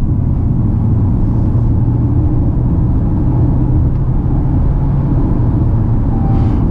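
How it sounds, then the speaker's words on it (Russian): Steady low tire rolling rumble inside a Jetour X70 Plus with a 1.6 engine cruising on the highway, a constant dull road drone with no talk. "А качение шин слышно."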